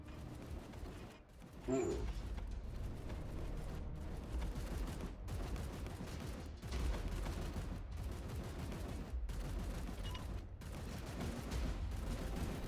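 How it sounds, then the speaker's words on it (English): Cover fire in Chaos Gate: Daemonhunters, a sustained, rapid stream of automatic weapon shots rattling steadily, broken by a few short gaps, fairly faint and continuous. "he's just laying down cover fire"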